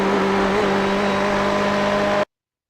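A Ferrari 488 GTE in the iRacing simulator at Bathurst pulls hard under throttle, its engine note loud and steady and rising slightly for about two seconds before cutting off abruptly.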